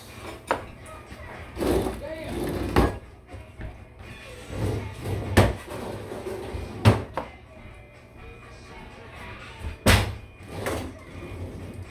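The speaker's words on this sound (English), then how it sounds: "I would just pull drawers until you see forks." Kitchen drawers pulled open and pushed shut one after another while searching for forks, giving a run of close wooden thuds and rattles spread through the stretch, with voices talking softly in between.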